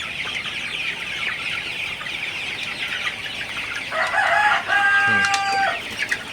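A flock of 46-day-old Sonali super hybrid chickens clucks and murmurs continuously nearby, with a louder burst of calls toward the end.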